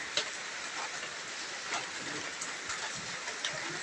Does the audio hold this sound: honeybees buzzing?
no